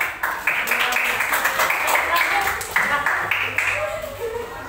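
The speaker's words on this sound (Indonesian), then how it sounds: "Tepuk tangan untuk kelompok." A roomful of people clap continuously, a dense patter of applause with voices mixed in underneath.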